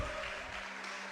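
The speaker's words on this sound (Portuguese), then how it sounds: "Você pode aplaudir, é a promessa de Jesus para a sua vida." A church congregation applauds during a sermon, a short, even burst of dense clapping that fills the moment at moderate loudness, without speech over it.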